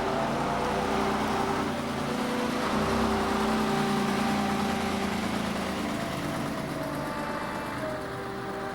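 A Bradford City Leyland PD2 bus runs with a steady, loud diesel drone and a low rumble, holding close and constant throughout.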